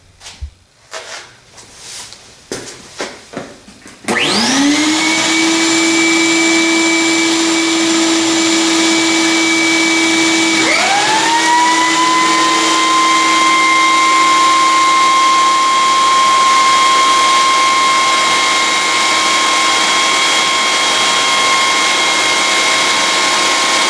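A thickness planer starts up and feeds reclaimed red oak pallet boards, five inches wide and five feet long, giving a loud steady motor whine with a rising tonal shift as the cut begins, after a few scattered knocks at the start.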